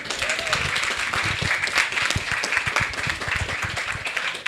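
Applause for conference panelists fills a pavilion: a close, busy mix of many hands clapping, with individual sharp claps standing out and a faint murmur of voices underneath.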